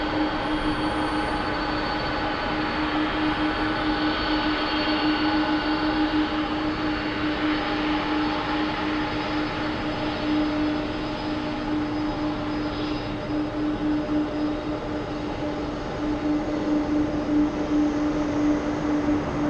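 An airliner takes off along the full length of runway 8 left at Atlanta's Hartsfield-Jackson airport, a steady, loud, broadband jet roar that holds without a break for the whole stretch.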